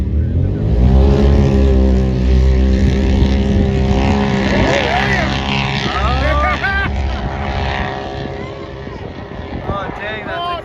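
Turbocharged and supercharged side-by-side UTVs launching and racing, loud droning engines rising in pitch as they accelerate away, with excited voices talking over the roar.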